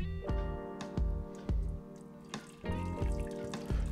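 Homemade ginger ale syrup poured into a container, giving a soft liquid trickle broken by several sharp splashing pulses, close and quiet with no talking.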